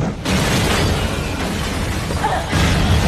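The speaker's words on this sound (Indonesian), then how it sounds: "Seketika sebuah ledakan terjadi" A loud, rumbling film explosion near a car wired to an electric cable, with broad noisy roar that cuts in abruptly, sustains, then surges again near the end like a second burst.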